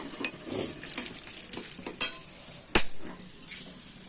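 Hot oil sizzles steadily with a bright hiss as whole garam masala and a dried chili fry, punctuated by a few sharp scrapes and taps of a utensil stirring in the pan.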